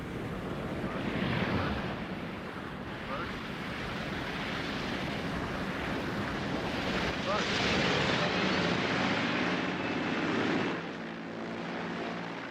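Dangerously overloaded Caribou aircraft coming in to land, a broad steady engine roar mixed with heavy wind rush, swelling slightly before easing off near the end.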